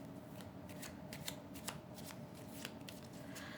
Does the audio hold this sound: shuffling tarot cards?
yes